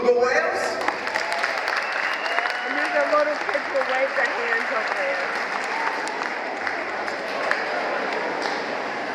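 Sustained applause from an audience at a beluga whale show at the Shedd Aquarium, a dense steady wash of clapping throughout with a presenter talking over it and children's voices mixed in.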